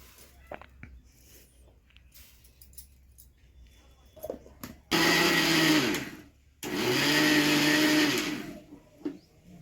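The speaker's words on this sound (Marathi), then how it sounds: "अशा प्रकारे मी तीळ बारीक करून घेणार आहे" A mixer grinder grinds sesame seeds in two loud, roaring bursts with a short pause between them, after a few seconds of quiet kitchen handling and clicks.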